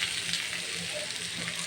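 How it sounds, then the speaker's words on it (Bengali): Fish frying in a little oil with chopped tomato going in, a constant close hiss and sizzle with faint stirring and no talk. "এখন আমি টমেটো কুচিটা দিয়ে দিচ্ছি।"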